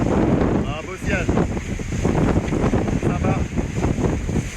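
Strong wind buffets the microphone aboard a racing sailboat at sea during the Vendée Arctique race near Iceland, a loud, steady rush with water noise, while someone talks over it.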